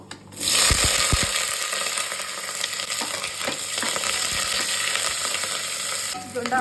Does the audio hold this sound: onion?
yes